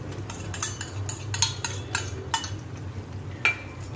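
Spoon stirring kasuri methi and marinated masala into paneer tikka masala in a pan: repeated scraping clinks of utensil against metal in an uneven rhythm, fairly close, over a low simmering background, with no talking.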